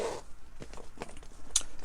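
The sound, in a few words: zipper of a Louis Vuitton pochette being opened by its ribbon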